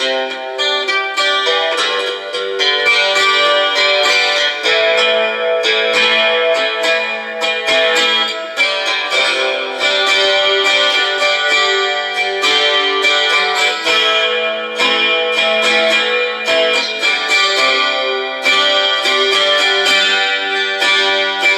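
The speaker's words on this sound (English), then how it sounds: "And we got the reverb about 3/4 and the chorus about 3/4." An electric guitar rings out through reverb and chorus effects each set around three-quarters, strummed chords and picked notes forming a steady, shimmering, sustained wash that plays alone at strong level.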